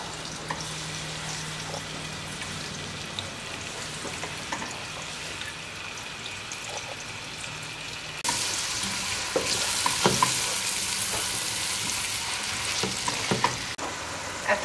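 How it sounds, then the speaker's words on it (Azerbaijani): Onions frying in oil in a pan, a steady sizzle with scraping stirs that grows louder and brighter partway through, with light clinks of the utensil and no voices. "Soğan çeviririk."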